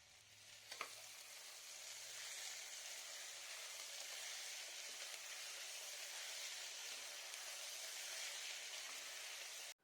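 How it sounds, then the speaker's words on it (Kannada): Potatoes with turmeric frying in oil over a high gas flame give a steady, even sizzle throughout, with a brief clink near the start and no talking. "ಇವೆಲ್ಲವನ್ನ ಗ್ಯಾಸ್ ಫ್ಲೇಮನ್ನು ಹೈ ಇಟ್ಟು ಹುರಿದುಕೊಳ್ಳೋಣ"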